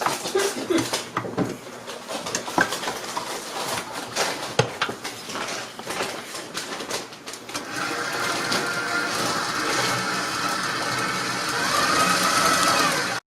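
An electric mixer beats Oreo cupcake batter, a steady motor whir rising out of earlier clattery kitchen handling and running continuously and fairly loud through the second half.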